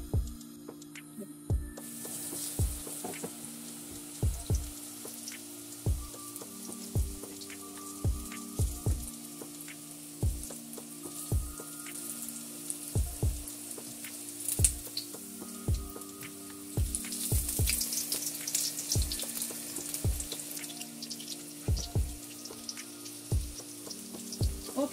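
Eggplant slices fry in hot oil with a steady crackling sizzle and scattered pops, close by and continuous, while a regular low thumping beat of background music runs underneath.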